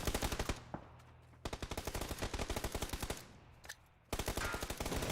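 Rapid automatic gunfire in PUBG during a console esports league match, dense bursts of shots cutting in and out with short pauses between volleys, loud and close with no talk.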